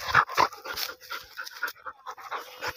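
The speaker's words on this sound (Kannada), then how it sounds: "ನಾಯಿ ನಮ್ಮ ಮೀನಾ ತೊಗೊಂಡು ಬಂದಿದ್ದು ನೋಡಿ ಓಡ್ ಬಂತು" A dog pants hard and fast after running up for fish, the quick breathy huffs close by and steady through the clip, with no talking.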